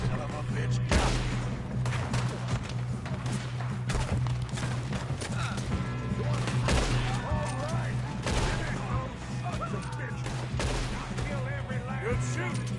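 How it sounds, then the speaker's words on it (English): Repeated gunfire in Red Dead Redemption 2 during a shootout, dense bursts of shots cracking over a constant low hum, with voices talking throughout. "Good shooting, kid."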